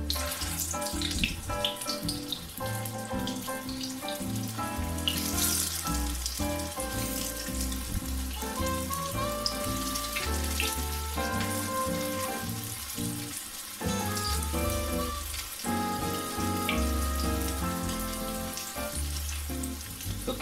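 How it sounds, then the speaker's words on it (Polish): Steady, dense sizzling of fish cutlets frying in a pan, continuous and fairly loud, with faint clinks, and no talking. "Kotleciki smażymy"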